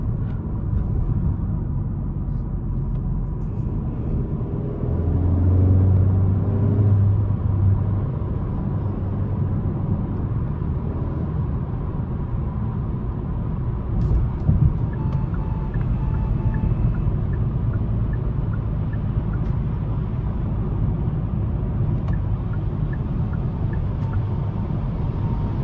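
A 2025 Kia K5 GT sedan pulls hard with traction control fully off, heard from inside as a steady, loud low engine and road rumble that swells briefly, with no talking.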